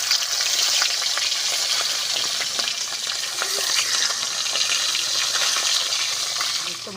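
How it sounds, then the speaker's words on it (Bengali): Pieces of cut rohu fish fry in hot oil in a village kitchen, giving a dense, continuous sizzle and crackle with occasional stirring clinks, loud and close with no talk. "মাছগুলো সুন্দর করে ভাজা হয়ে গেছে"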